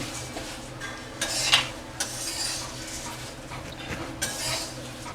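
Kurmura (puffed rice) being stirred in a pan: light scraping and rustling with a few sharp clicks of a spoon against the metal, close and continuous, with no voices.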